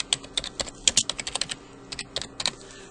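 Fingers typing a word on a computer keyboard, a quick run of crisp, close key clicks in two short bursts with a brief pause between.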